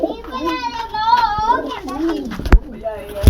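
Domestic pigeons coo and call close by as they are let out, a bird's warbling voice running through most of the stretch, with children's voices and a few sharp knocks mixed in.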